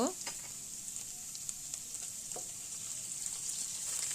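Finely chopped garlic and ginger fry in a pan with a soft, even sizzle and occasional light scrapes as they are stirred, a faint hiss running throughout.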